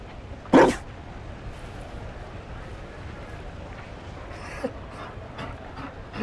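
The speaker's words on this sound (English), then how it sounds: "You found a dog?" A Mabari war dog in Dragon Age: Inquisition gives a single short bark near the start, followed by faint game ambience and a few soft, distant sounds.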